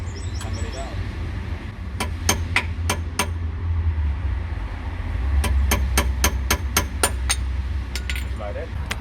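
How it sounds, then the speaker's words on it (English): Hammer strikes knocking a wheel bearing cap out of a Mercedes-Benz hub: sharp metallic taps come in quick bursts of four or five, then a longer steady run, close and loud over low background rumble. "And then you've got this cap on here, and you just hammer it out."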